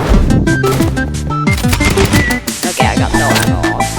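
A paintball gun fires rapidly in a video game, a loud fast stream of clattering shots layered over busy in-game music.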